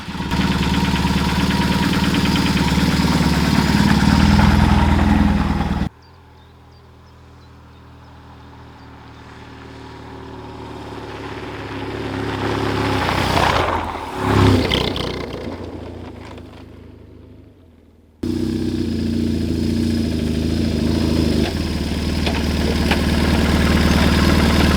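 A BMW R1150 motorcycle engine runs with a loud, steady close drone, then cuts to a quieter rising and passing rumble, as if riding away and back, before returning to a loud, steady engine note.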